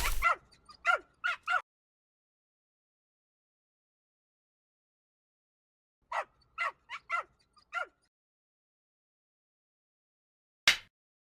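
A dog barks and whimpers in short sharp bursts: a quick cluster of yips, then silence, another group of barks and whines, and a final single bark, clear and isolated.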